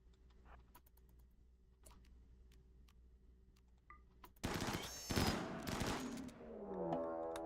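Gunfire from RimWorld shooting practice: scattered faint clicks and taps, then from mid-clip a dense loud burst of rapid shots that trails into a ringing, lingering tail.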